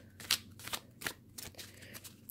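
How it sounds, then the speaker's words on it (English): Tarot cards shuffled hand-over, a run of soft papery riffles and slaps in uneven bursts, close and fairly quiet, with no one speaking. "So you can see it shuffles very well. You can also do handover,"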